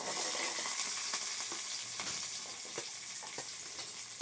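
Green chillies sizzle and crackle in hot oil as they are stirred in a pan, a steady close frying hiss with scattered pops and scraping stir strokes, no voices.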